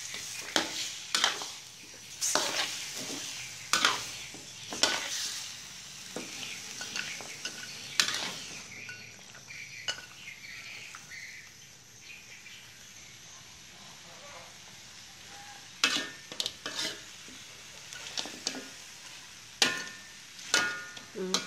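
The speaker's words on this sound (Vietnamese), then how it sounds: "Rồi bây giờ mình xào gà nha các bạn" Chicken pieces stir-frying in a pan until firm for a chicken stew: a soft sizzle under repeated clanks and scrapes of a utensil stirring against the metal.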